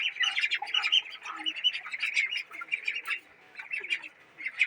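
A group of ducks kept for free-range rearing squawk and quack rapidly and nearly nonstop, the calls close and overlapping, with a couple of brief quieter gaps and no talk.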